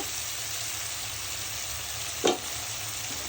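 Mustard spice paste frying in oil for a prawn curry, a steady close hiss and sizzle with one brief clink of a utensil, no talk.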